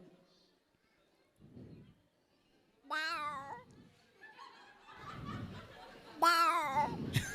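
A man mimics a frightened cat meowing an apology, giving two drawn-out, wavering meows between low murmurs and chuckles, with people talking and laughing nearby in a quiet room.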